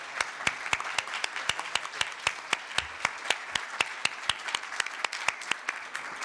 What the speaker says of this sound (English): Please give a big round of applause to our panelists.